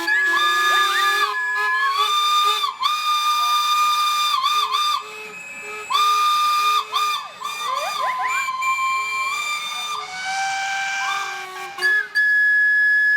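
A steam traction engine at the 2019 Cumbria Steam Gathering sounds its whistle in long, loud, shrill blasts with short breaks between them, over a hiss of steam.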